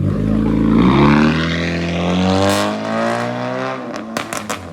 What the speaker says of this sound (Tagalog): Pumuputok yung tambutso eh.